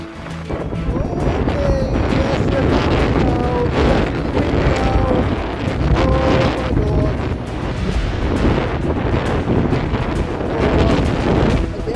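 Gale-force wind buffets a DIY solar touring bike, a loud, continuous roar with heavy microphone rumble and gusty surges, no speech heard.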